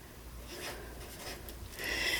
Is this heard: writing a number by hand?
yes